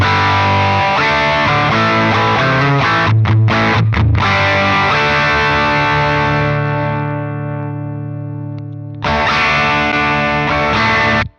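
An electric guitar runs through an MXR Sugar Drive overdrive pedal pushing the amp into heavy overdrive, with loud, thick sustained chords ringing out, a brief choppy break, a long fading hold, then a fresh strum near the end.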